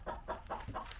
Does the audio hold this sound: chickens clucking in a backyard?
yes